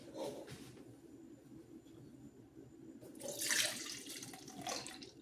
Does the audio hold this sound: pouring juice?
yes